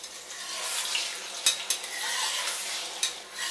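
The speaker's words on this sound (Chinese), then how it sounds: "蛋下去，有这个声音才对了" Beaten eggs hitting hot oil in a wok, a bright continuous sizzle with a few sharp clanks of a utensil against the metal.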